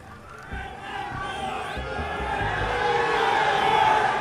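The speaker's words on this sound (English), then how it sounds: "Let's listen to the real fans." Fans cheer and shout at a Cowboys football training camp, a dense crowd roar that builds steadily louder over a few seconds with no break.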